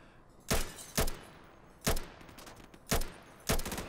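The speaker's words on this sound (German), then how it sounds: "Boah, 3 Schüsse in den Rücken, er lebt immer noch." Five sharp gunshots ring out in the Insurgency video game, spaced irregularly about half a second to a second apart, each loud and punchy with a short tail, over quiet background ambience.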